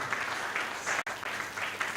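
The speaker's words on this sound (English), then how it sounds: "Please, a round of applause for him." Audience applause at a public lecture marking a news outlet's third anniversary, a steady dense wash of clapping from a hall crowd with a brief break partway through.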